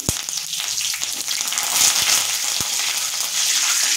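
Whole coriander seeds, mustard seeds and curry leaves sizzle steadily in hot oil, a close, continuous hiss with a couple of sharp pops and crackles.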